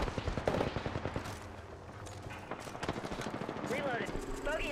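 Gunfire in the Apex Legends video game: rapid bursts of automatic shots crackling in quick succession, fairly faint, mixed with in-game character voice lines.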